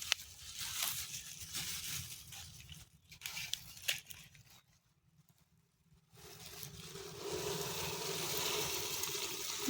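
Rice being rinsed by hand in water while cooking outdoors in a village, giving wet swishing and trickling with short crunchy scrapes, pausing briefly midway before the splashing resumes, close and moderately loud.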